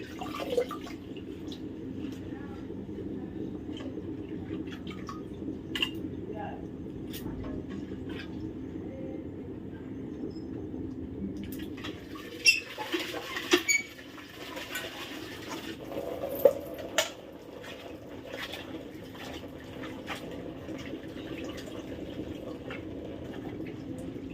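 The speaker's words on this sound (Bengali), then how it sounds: "পালং শাকটা কেটে যদি বালতির মধ্যে এইভাবে না ধোয়া হয় না কেমন যেন ভালো লাগে না" Chopped spinach is washed by hand in a bucket of water, with soft, sporadic splashes and drips over a steady low background hum.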